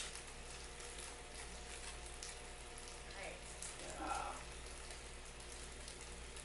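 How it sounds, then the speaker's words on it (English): Mac and cheese sizzles steadily in a pan with a constant crackling hiss, and faint voices come through briefly. "we are frying our mac and cheese up now"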